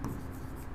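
A marker squeaks and scratches across a board during a biology lesson on digestion, a short close burst of rough writing strokes against faint room background.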